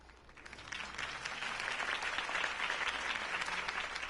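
A crowd in a Batman video game applauds after a campaign speech, clapping rising from quiet to a steady, fairly distant ovation that holds to the end.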